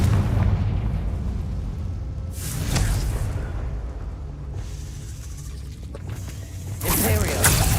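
The Confringo spell in the video game Hogwarts Legacy sets off a fiery blast, and a second loud burst follows a few seconds later. Both sound over a steady rumble of game ambience.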